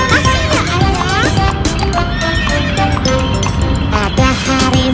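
A horse pulling a carriage driven by a coachman, with rhythmic clip-clop of hooves and a high whinny rising over a busy, loud mix that includes music and a voice.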